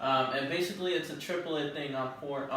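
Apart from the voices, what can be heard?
No everyday noise stands out behind the speech.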